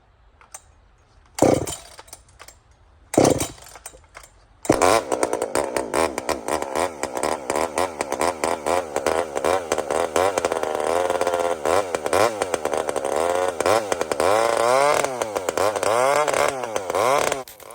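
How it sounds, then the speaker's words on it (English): Chainsaw starting after a few separate pull-start bursts, then running steadily and loud, its pitch rising and falling as the throttle is worked during a cut, with no talk over it. "You won't hear me because the saw's going, so I'm gonna overdub this."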